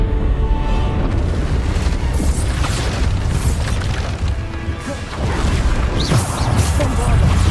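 Bombarda blasting spells explode repeatedly in Hogwarts Legacy, heavy booms and crashes filling the whole stretch loudly, with a voice talking over the combat.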